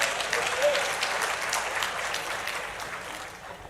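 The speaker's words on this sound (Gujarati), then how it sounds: "હવે બેનો તાળી પડો" A crowd claps steadily for a few seconds, a dense wash of applause that gradually softens toward the end.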